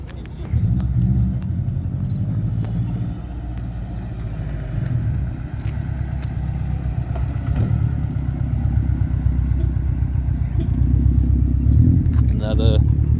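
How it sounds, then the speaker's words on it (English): A Subaru car pulls up at a mountain car meet, its engine rumbling low and steady with an intake note that grows slightly louder toward the end, and voices are faintly present in the background. "this one pulling up makes such nice intake noises"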